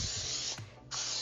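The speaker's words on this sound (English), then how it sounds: "grease that with either butter or use nonstick cooking spray" Nonstick cooking spray hisses steadily from an aerosol can onto a 9x9 baking pan for greasing, one continuous close spray with a brief pause before resuming.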